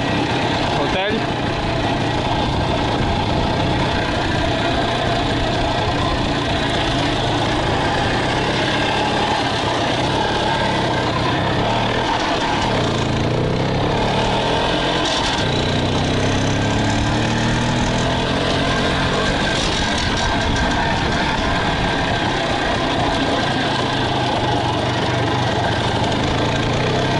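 An IZh Planeta Enduro motorcycle engine running without a battery on its generator ignition, a loud, continuous, rough engine drone with shifting revs throughout, under a voice talking.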